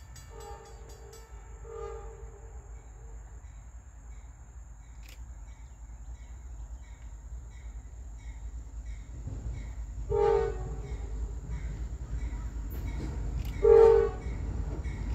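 A Norfolk Southern AC44C6M diesel locomotive leading a northbound freight sounds two loud, sustained horn blasts over a steady engine rumble as it approaches.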